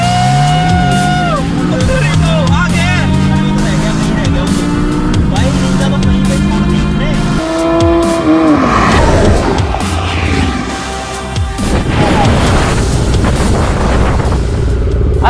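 A Porsche Boxster roars through a drag race against a Ninja ZX10R superbike, engine rising in pitch through several gear shifts, loud and close, with crowd noise and brief voices around it.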